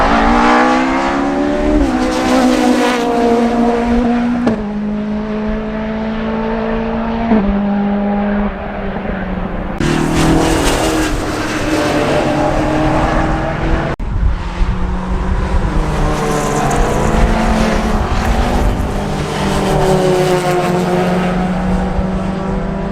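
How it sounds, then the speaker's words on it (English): A 1930s pre-war Bentley vintage car runs on a glass-lined skid pan at a rally, its engine note rising and falling steadily and loudly throughout, with squealing tyres over continuous motor roar. "First of the wonderful pre-war cars is off on its run now, the first being this wonderful 1930s Bentley"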